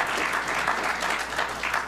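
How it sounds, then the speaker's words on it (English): An audience claps steadily and fairly loudly at a religious gathering, dense continuous applause with no break. "let's give Brother Minister Reggie a round of applause"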